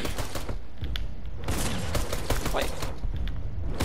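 Rapid bursts of shotgun fire in a Fortnite match, several close, loud blasts in quick succession with mechanical clatter between them and no talk over them.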